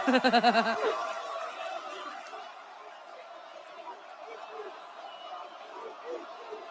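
Wrestling arena crowd at a live WWE Raw event, a dense roar of cheering and chatter sustained throughout, opening with a burst of laughing voices up close before the broad crowd noise settles into a steady, distant wash.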